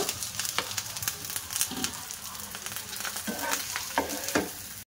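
Two medium-sized boiled potatoes fry in a hot pan, giving a steady crackling sizzle with occasional stirring scrapes and clacks. The sound stays close and fairly quiet throughout.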